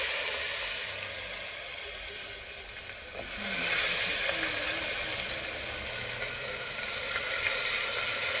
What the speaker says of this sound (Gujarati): હવે એમાં નાખી દેવું ડુંગળી બટાટા.